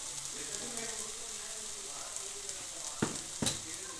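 Tomato paste masala frying and being stirred in oil for a small-fish curry, giving a steady close sizzle throughout with two sharp utensil scrapes or knocks near the end.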